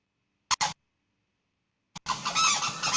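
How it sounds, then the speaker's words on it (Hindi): Great Indian bustard calls come as two short honking bursts, then after a pause a sustained loud, throaty run of calls. "बरसात में सोन पक्षी आवाज करती है।"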